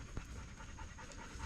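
A dog pants steadily and rapidly close by on a hiking trail, soft rhythmic breaths over low outdoor rumble.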